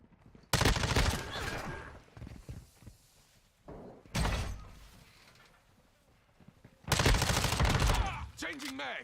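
Modern Warfare 2 beta gameplay: loud bursts of automatic gunfire come in three separate clusters, each followed by quieter pauses, with no talk.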